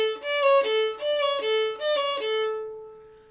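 A violin is bowed in a repeating pattern with uneven up bows, each stroke surging and swelling unevenly in a lopsided rhythm, played clearly and alone before ringing off.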